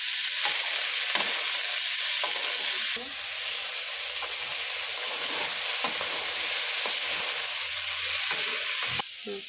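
Cauliflower and carrots fry together in a pan, a steady close sizzle and hiss running throughout, with occasional stirring scrapes and a brief break near the end.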